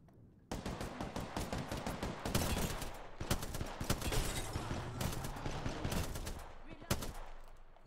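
Rapid automatic gunfire in the video game Apex Legends, dense bursts of shots firing almost continuously for several seconds, loud and close, with short gaps between volleys.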